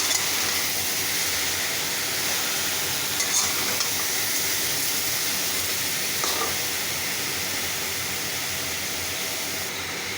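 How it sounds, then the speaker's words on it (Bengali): A cooking mixture being stirred after sugar is added for amot, giving a continuous broadband hiss and sizzle with soft scraping strokes and a couple of brief clinks, fairly loud and steady without talk. "চিনিটা দিয়ে দিলাম, বেশি মিষ্টি দেবো না, হালকা। নাড়াচাড়া করে দিই।"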